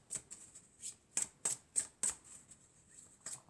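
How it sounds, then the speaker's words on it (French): A deck of oracle cards shuffled by hand, close and fairly quiet: about eight crisp riffling slaps in an uneven rhythm with soft rustling between them, no voices. "on va prendre quelques cartes de mon oracle"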